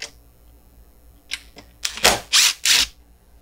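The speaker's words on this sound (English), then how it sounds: "Now I can remove my screws." A power tool backing out screws while a tiled sign is mounted: a few light clicks, then three short, loud whirring bursts close by, separated by brief pauses.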